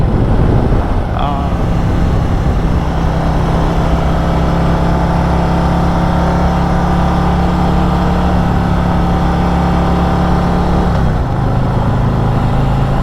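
A 2021 Harley-Davidson CVO Road Glide with upgraded suspension cruises on a freeway, its engine a steady, loud, continuous drone mixed with wind rush, the pitch shifting slightly near the end.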